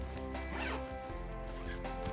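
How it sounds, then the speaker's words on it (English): Zipper on an Eagle Creek Packable Duffel bag being pulled open: a close, scratchy run of zipper teeth across about two seconds, with no one talking over it. "most duffels just have one zipper right here for access"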